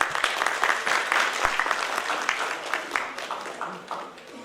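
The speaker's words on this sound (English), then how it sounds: "A huge round of applause, everybody" Audience applause fills a conference hall during the Northeast Social Work Conclave, welcoming the Chief Executive Member of Bodoland Territorial Region; dense, steady clapping from a large crowd throughout, easing slightly toward the end.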